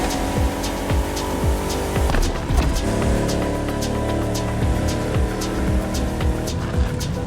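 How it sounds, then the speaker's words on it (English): Revving car engines and squealing tires from The Crew Motorfest racing game, played with a Fanatec CSL steering wheel, with engine notes rising and falling continuously and several sharp skid bursts throughout. "the sound effects of the car is just not, they're very underwhelming"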